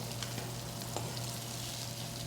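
Fish fried crisp in hot oil gives a steady, even sizzle and crackle throughout, fairly quiet, with no voices.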